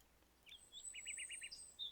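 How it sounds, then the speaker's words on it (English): Small birds chirp at around 6 a.m., several quick high tweets in short bursts against a quiet background, faint and somewhat distant, with no voices. "When the cheerful chirping of the birds greet me around 6 a.m."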